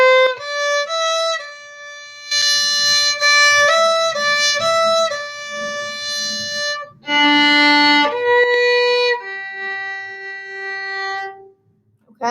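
A string instrument, such as a cello, plays a third-position exercise as a run of clear sustained bowed notes in two phrases, separated by a brief pause, heard alone with no talking.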